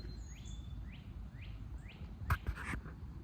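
A bird gives a series of four short, rising chirps at an even pace, faint against a low background rumble, followed by a brief knock or clatter nearby.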